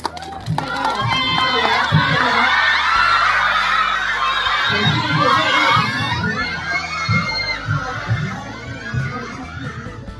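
A studio audience cheers and applauds for the hosts of a boy band documentary, a loud, dense roar of clapping, shouts and excited screams filling the whole stretch, with voices mixed in.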